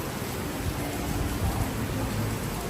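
Steady rain falls on a city street, a dense continuous hiss with soft patters, close and fairly loud with no break.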